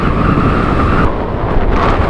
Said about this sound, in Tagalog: Uy, ang lakas ng hangin.